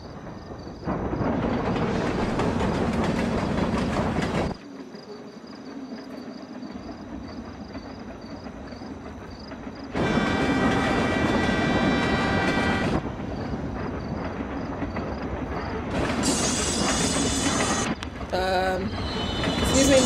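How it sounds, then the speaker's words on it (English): A train rumbles through a scene in the video game Life Is Strange: Before the Storm, a broad steady roar that cuts in and out with abrupt shifts and brief higher squealing bursts near the end. "There's a train."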